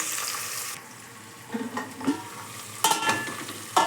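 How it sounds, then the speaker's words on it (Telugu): Vegetables and green peas are stirred in hot oil in a pot, with a soft frying sizzle and several scraping, clattering strokes of a spoon against the pot, close and without talk. "ఇవి మొత్తం కూడా ఆయిల్లో ఒకసారి కలిసేలా కలుపుకొని"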